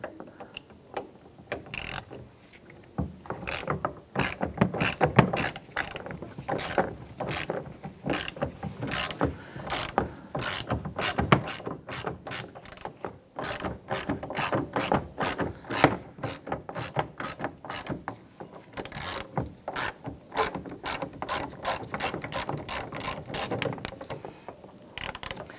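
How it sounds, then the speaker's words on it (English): A ratchet fitted with a T30 Torx bit and extension loosens the bolt on an interior door handle of a 2002-2008 Dodge Ram 1500, making close, rapid clicking bursts in a steady back-and-forth rhythm throughout. "We're going to use a T30 Torx bit with an extension on a ratchet."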